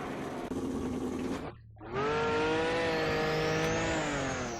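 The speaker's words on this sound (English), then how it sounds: "we're going to be driving the Porsche 91730, where we can unleash the better part of 1200 horsepower" Porsche 917/30 race car engine in Assetto Corsa, a loud roar that drops briefly on a gear change, then a strong, rising rev pulling hard as the car accelerates.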